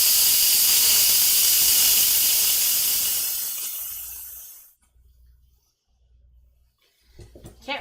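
An Instant Pot's pressure release valve vents steam while corned beef and cabbage cook, a loud continuous hiss that fades out over a few seconds, followed by faint low thumps and a brief sound at the end.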